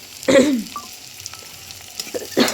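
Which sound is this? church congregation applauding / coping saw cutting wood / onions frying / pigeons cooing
onions frying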